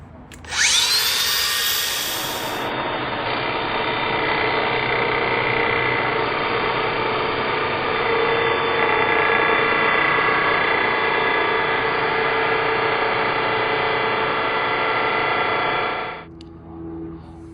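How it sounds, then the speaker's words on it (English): Power tool cutting links off the stock chain of a 2020 Honda CRF450X, a loud, steady high-pitched grinding whine that starts abruptly and holds for about fifteen seconds before cutting off. "I'm just gonna cut these links off"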